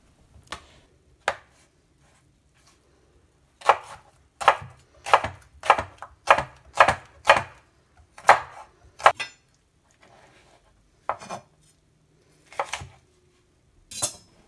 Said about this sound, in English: cut the ends off the cucumber and slice it into thin slices.